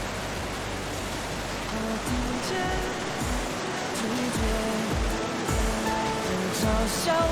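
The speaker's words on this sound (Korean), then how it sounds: "둥글둥글한 바위와 떨어지는 물줄기가 예술이다." Shuzheng Waterfall in Jiuzhaigou, China, pours over rounded rocks in a continuous, dense rush of falling water. The roar is steady and fairly loud, with faint tonal swoops passing over it.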